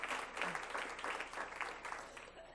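Audience at a school board meeting applauding a teacher's award, a short burst of moderate clapping from a room of people that fades slightly toward the end.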